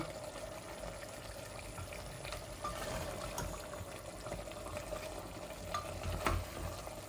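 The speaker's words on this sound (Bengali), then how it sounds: "এই দেখুন আমার এই হাড়গুলা ভুনা হচ্ছে।" Goat trotter bones sizzle and fry in spices, a soft continuous crackle with scraping stir strokes and occasional sharper pops, fairly quiet and steady, with no one talking.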